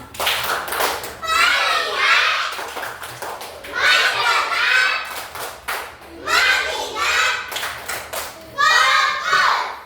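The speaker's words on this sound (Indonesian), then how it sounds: "Tepuk fokus." A class of children in a classroom performs a rhythmic focus clap, with repeated bursts of chanted young voices and hand claps in an even beat, fairly close and loud.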